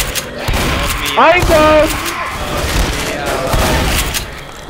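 Repeated gunfire from players in Left 4 Dead's No Mercy hospital campaign on Expert: rapid, close, loud shots cracking in uneven bursts throughout, with a voice shouting over them.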